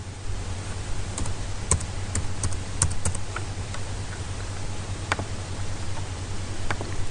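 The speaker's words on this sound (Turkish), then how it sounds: "İçine birkaç harf yazıp kapatalım" Keys clatter on a computer keyboard in short irregular bursts of clicks over a steady background hum, with no one speaking.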